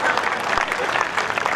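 An audience at a Jain poetry gathering applauds, a dense steady wash of clapping hands heard briefly and evenly, with no break.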